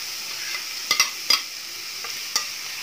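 Chopped onions and cabbage fry quietly in a pan under a steady soft sizzle, while a utensil scrapes and clinks through a few sharp stirring strokes.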